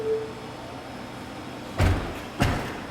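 Two Tesla car doors swing shut automatically, each ending in a solid thud about half a second apart, after a faint motor whine, heard close with no talking.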